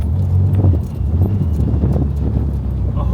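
A Mercedes 190e fitted with a swapped ZF8HP automatic gearbox drives along, its engine droning loudly with lumpy, uneven pulses from rough gear shifts and clunking drivetrain knocks close up.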